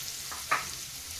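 Finely chopped onion frying in oil with a dried Byadgi chilli, a faint steady sizzle with one brief scrape or tap of a stirring spoon.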